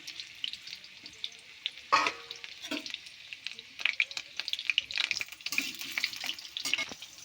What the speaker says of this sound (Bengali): একই তেলে দিয়ে দেবো আলুগুলো।